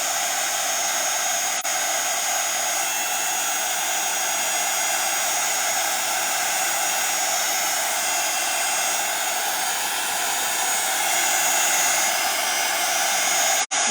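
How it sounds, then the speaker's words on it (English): A hand-held heat blower drying a gold-detailed craft project, a steady loud whooshing roar with a whine that runs without a break, close and alone, stopping abruptly at the end. "I will blast everything just to make sure it is completely dry and I don't smudge anything"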